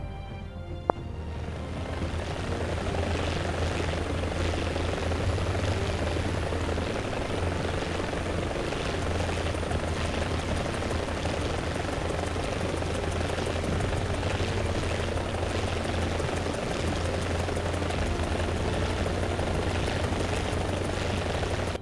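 Helicopter rotor and engine in the War Thunder video game, a loud, steady continuous drone with a deep rhythmic low thump, close and unbroken throughout with no talk.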